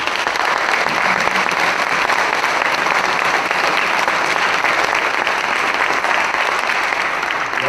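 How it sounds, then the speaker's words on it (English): Sustained, dense applause from an audience at a candidate forum, loud and even throughout with no talk over it. "Let's give our candidates a big round of applause."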